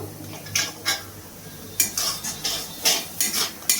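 A metal utensil clinks and scrapes against a pan in short, irregular bursts, with a faint sizzle underneath, as spice paste for a soybean kofta curry is stir-fried; no voices.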